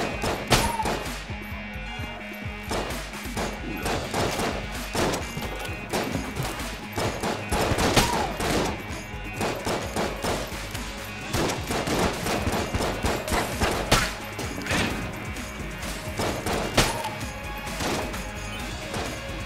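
Dense, continuous gunfire and bullet impacts from the video game Enter the Gungeon, with rapid overlapping shots and crashes at steady high loudness throughout.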